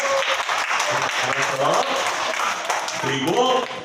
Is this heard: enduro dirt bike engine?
no